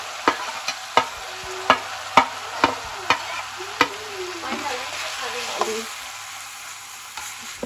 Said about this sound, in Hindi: ये हल्दी आमचूर सारे मसाले डाल के इसकी भुनाई करनी है